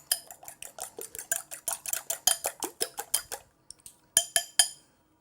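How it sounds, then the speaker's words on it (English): A fork beats eggs in a mixing bowl for a sponge cake batter, giving a quick run of rhythmic, close clinking taps that speed up, pause briefly, then finish with a few louder strikes against the bowl. "I'm just going to break them up with a fork and give them a quick beat"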